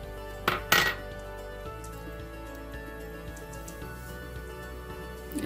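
A spoon mixing yogurt rice with grated carrots in a bowl, two sharp clinks against the dish early on followed by quieter soft stirring, close and without talk.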